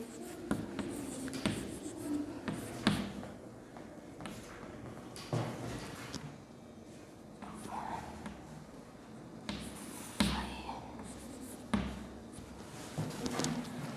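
Marker or chalk writing out a Class 3 addition problem with carrying over, with intermittent scratchy strokes and soft taps at a close distance, and no talking.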